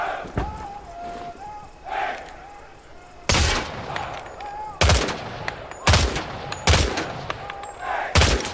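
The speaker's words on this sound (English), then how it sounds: "Shoot the targets ahead, aiming for the helmet to guarantee an instant kill." Gunfire at targets in Hell Let Loose, heard as loud, sharp rifle shots spaced a second or so apart, some in quick pairs, over quieter ambient battlefield noise.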